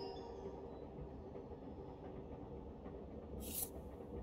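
Steady train rumble inside a moving carriage in the video game Eternights, a continuous low droning wash with a brief hissing burst near the end, no voices.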